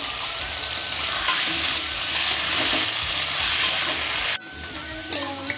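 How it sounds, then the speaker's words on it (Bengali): Potatoes fry with salt and a tempering of whole cumin seeds in a pan, giving a loud, bright sizzle with scraping stirs, the hiss briefly dropping near the end before carrying on. "আলুগুলো প্রায় ভাজা ভাজা হয়ে এসছে"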